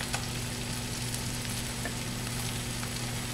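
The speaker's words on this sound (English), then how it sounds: "And you can hear it cooking already." Broccoli rabe and shallots cooking in butter in a pan, a steady, close sizzle and crackle with occasional small pops, continuous and even throughout.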